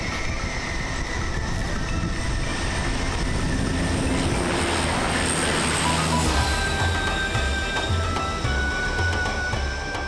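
Inside a C-2 transport plane landing on the deck of the carrier USS Theodore Roosevelt, engine roar and rushing noise fill the cabin loudly and steadily, with whining tones shifting near the end.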